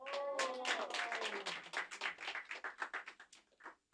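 A church youth group applauds successful students: a quick round of close hand clapping that starts dense, over a short trailing voice at the start, then thins into uneven separate claps before fading out.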